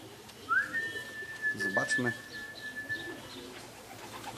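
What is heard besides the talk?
racing pigeon cooing on arrival at the loft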